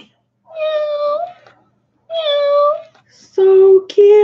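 Cat meowing four times: two long, drawn-out meows, then two shorter, sharper ones in quick succession, close and clear.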